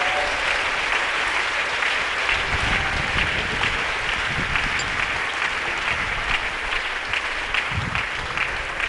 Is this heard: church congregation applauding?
yes